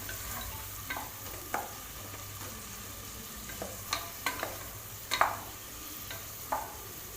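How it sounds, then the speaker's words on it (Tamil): Onions and three whole green chillies sautéing in a pan over a medium flame for a Tamil vegetable dish, a low steady sizzle broken by scattered scraping stirs and clinks, fairly quiet and close, with no talking. "மீடியம் ஃப்ளேம்லேயோ இல்லை சிம்லேயோ வச்சு நல்லா வதக்கி விட்டுக்கலாம்"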